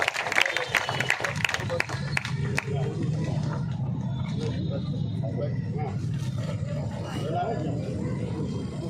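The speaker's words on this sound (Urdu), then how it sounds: "زوردار تالیاں آپ کی طرف سے ہونی چاہیے۔" Audience applause at a social workers' gathering in Qila Tairak, a sustained wash of clapping and crowd noise that is loud near the start and continues steadily as a dense background throughout.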